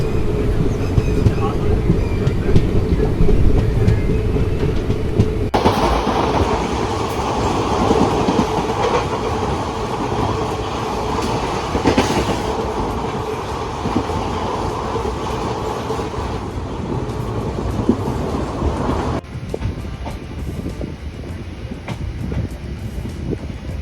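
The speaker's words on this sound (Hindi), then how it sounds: "पंजाब के खेत खलियान और बीच से निकलती ट्रेन।" A sleeper-class express train, running from Ahmedabad to Jammu Tawi, rolls through Punjab farmland with a steady, loud rumble and rhythmic clickety-clack of wheels on rail, continuous and close throughout.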